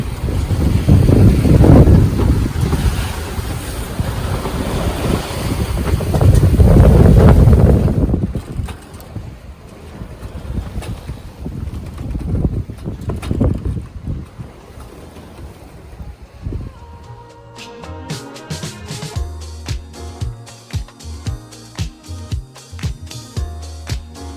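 A sailboat crossing the open South Pacific rides through wind and waves, with heavy gusting wind noise and surging water loud at first, then easing into quieter sloshing and creaking.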